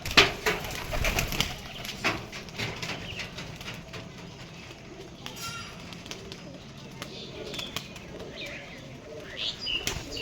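Pigeons flap their wings and land, sharp wing claps and fluttering bursts standing out against a busy outdoor background with scattered bird calls and coos, and a voice talking now and then.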